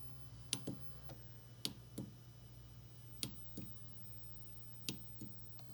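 An Arduino-driven stepper motor steps back at low speed, giving faint, sharp ticks in small irregular clusters over a steady low hum, no voices.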